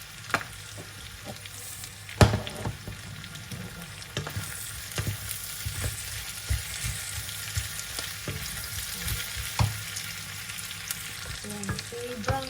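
Pork browning in a pan, a steady low sizzle of frying meat with intermittent scraping and clacks as it is stirred, close and fairly quiet, no voices.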